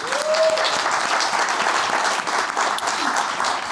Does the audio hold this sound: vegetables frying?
no